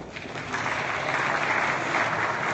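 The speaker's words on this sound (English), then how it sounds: "give him a warm applause" An audience at a business conference applauds warmly for a speaker. The clapping is a dense, continuous wash that holds steady and swells slightly toward the end, with no voices over it.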